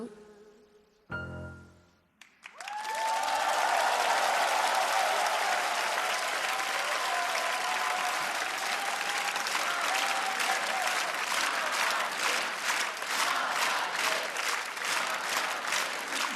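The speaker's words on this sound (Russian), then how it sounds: "я опять увидел ваши такие добрые аплодисменты" A TV talent show audience breaks into applause after a song, starting with a brief musical ending and then a loud, sustained burst of clapping that swells and carries on steadily for many seconds.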